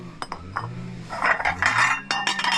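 Porcelain dishes clink and scrape together in a few bright, close clusters, light taps followed by a longer rattling handling of crockery.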